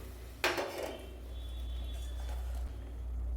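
Sliced pointed gourd drops into a cooking pan for an oil-free potato and poppy seed curry: one sharp clatter and sizzle, then a fading rustle over a steady low hum.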